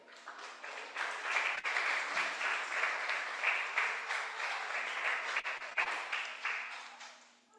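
Church congregation breaking into applause, a dense wash of clapping that swells in quickly, stays steady for several seconds with a few sharp knocks, then fades out.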